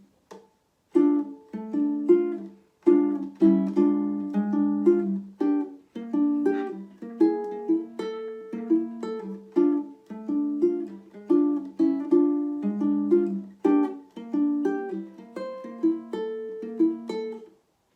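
Plucked nylon-string chords and melody notes of a song on a ukulele, played at a moderate, steady pace, close and clear with no voices.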